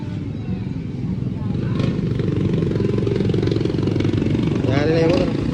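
A motorcycle engine runs with a steady low rumble that grows slightly louder, heard under background voices and street noise.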